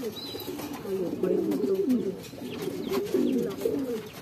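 Racing pigeons coo in repeated soft throaty phrases, close and steady, with faint background noise and occasional light chirps.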